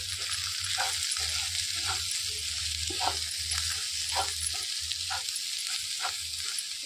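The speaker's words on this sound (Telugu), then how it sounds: "ఇలా మొత్తం కలిసేలా చల్లేసుకొని ఒకసారి తిప్పేసుకోవాలి" Cluster beans frying in a pan with a tablespoon of coriander powder sprinkled in, a continuous close sizzle punctuated by regular scraping stirs roughly every second, no speech.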